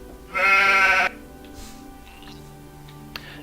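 A single loud sheep bleat in the video game Gothic 2, lasting under a second with a wavering, voiced quality, followed by quiet game ambience and faint distant sounds.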